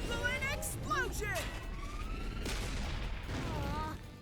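The Zeppelin Explosion signature skill in Digimon Story Time Stranger plays as swooping, siren-like whistling tones and sweeping effects, followed by a noisy burst of blasts, loud and close.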